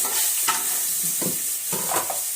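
Mustard seeds, cumin and garlic fry in a hot pan with a loud, continuous sizzle, broken by a few stirring scrapes, and no one talks.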